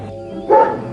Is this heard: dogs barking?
yes